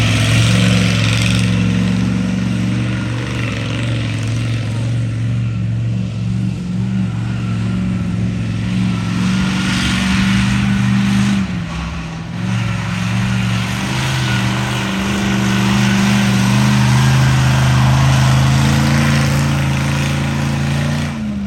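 A monster truck engine at a truck show, a loud sustained low rumbling drone that holds steady, dips briefly near the middle, then picks back up, with no voices.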